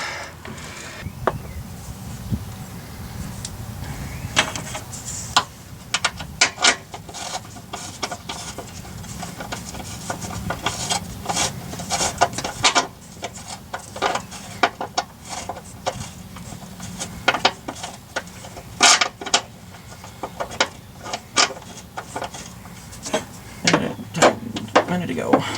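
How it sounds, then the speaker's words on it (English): A ratchet clicks in short, irregular bursts while bolts are tightened on a Chevy Cavalier or Pontiac Sunfire front sway bar. The clicking is close and fairly faint, mixed with scattered metallic clanks and occasional talk. "Now you just have to bolt those back down."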